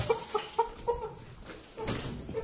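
Several short, clucking calls from a rooster in quick bursts as it is being caught, close by, with some rustling and scuffling underneath.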